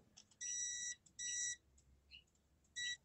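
A multimeter gives three sharp continuity beeps, each sustained about half a second with short gaps, sounding quiet and close, followed by faint chirps; no voices.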